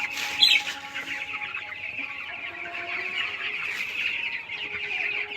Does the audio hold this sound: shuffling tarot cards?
no